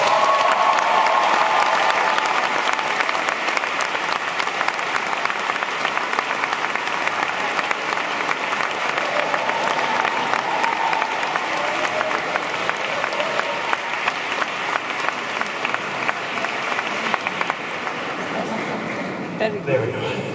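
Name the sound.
audience applauding at a graduation ceremony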